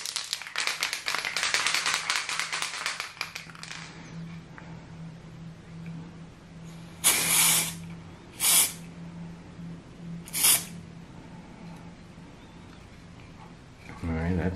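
Three short bursts of aerosol spray coat the brake light of a Xiaomi M365 electric scooter, hissing at steady intervals after a stretch of louder broadband noise, with a low hum underneath.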